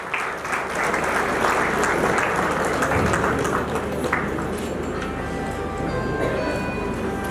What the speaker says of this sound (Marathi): जोरदार टाळ्या वाजवायच्या पंकज भावेसाठी